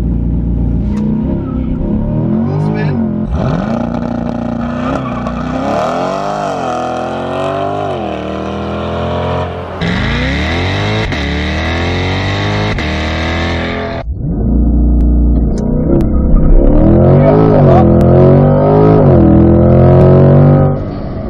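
Hard launch in a 2020 C8 Corvette, the engine roaring through rising, shifting gears with brief breaks between them, loud and close from start to finish.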